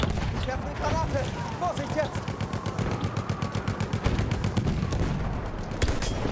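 Rapid bursts of Battlefield 1 gunfire rattle in quick repeated volleys, with a player's voice talking in Italian over the shooting.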